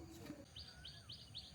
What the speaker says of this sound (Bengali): সকালবেলায় যে পাখির যে কিচিরমিচির